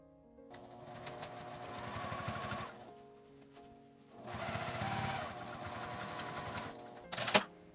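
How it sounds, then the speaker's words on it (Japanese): A sewing machine edge-stitches the turned-in opening of a fabric gusset pencase closed, running in two long bursts separated by a short pause and ending with a brief sharp clatter, fairly quiet and close. "返し口のところを内側に折って端ミシンで縫い閉じたら出来上がりです。"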